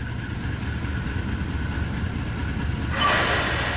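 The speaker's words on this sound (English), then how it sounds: "we can also see an oncoming train coming on the secondary track" A GE locomotive hauling coal rolls along the track in Train Simulator 2020, a steady low engine rumble and wheel noise running throughout, with a brighter rise near the end as an oncoming train on the second track draws close.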